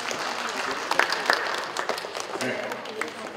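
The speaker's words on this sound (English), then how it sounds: "you're clapping for him just a little bit." An audience at a school boundary study open house claps briefly and modestly, scattered hand claps at moderate distance over a roomy background.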